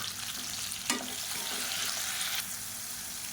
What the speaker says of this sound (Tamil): இதை நல்லா வதக்கிட்டுக்கலாம்